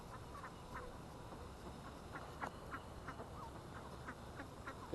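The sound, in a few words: ducks quacking on a pond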